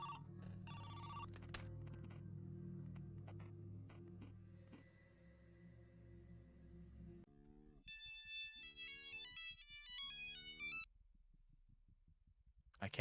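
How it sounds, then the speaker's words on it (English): A telephone rings in a horror video game, a series of electronic ring bursts in the second half after a low rumbling ambience, each ring repeating in a regular pattern at moderate loudness with no speech. "Phone's ringing."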